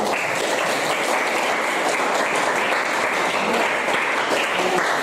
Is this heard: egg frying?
no